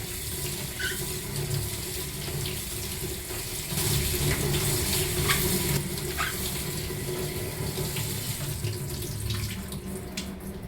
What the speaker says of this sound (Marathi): व्यवस्थित स्वच्छ धुवून घ्यायचे